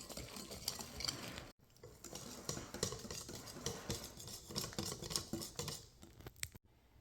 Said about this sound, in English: Add that right in and mix it up. I'm gonna use my whisk to get this all incorporated